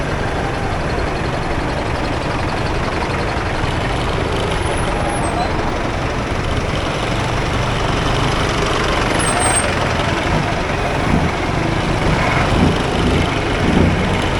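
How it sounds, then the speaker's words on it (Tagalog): Heavy street traffic rumbles past the Padre Rada market in Ilaya, with trucks and buses making a steady, loud, close roar that never lets up. "Medyo matraffic na rito kasi palengke."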